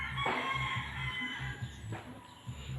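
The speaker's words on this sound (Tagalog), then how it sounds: "Madami din ditong manok." Chickens at a rural garden crow and cluck nearby, two drawn-out rooster calls rising over a steady run of low clucks, fairly close and free of talk.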